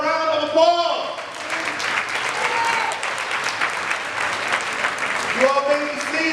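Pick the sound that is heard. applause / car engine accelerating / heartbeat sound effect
applause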